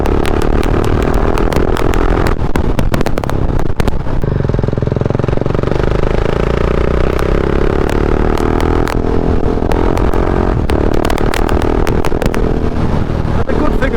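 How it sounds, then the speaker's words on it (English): A Husqvarna 701 motorcycle rides along a quiet fell road, its engine droning loud and steady with wind buffeting and rattling over it. "out on the Husqvarna 701, it's just the ideal bike for the ideal surroundings"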